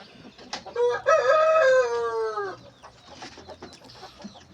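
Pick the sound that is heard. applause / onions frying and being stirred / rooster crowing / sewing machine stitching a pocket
rooster crowing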